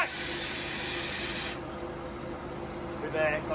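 Compressed air blasts through a tube into a boiler's auger channel, a loud broad hiss that cuts off abruptly partway through and leaves quieter background noise.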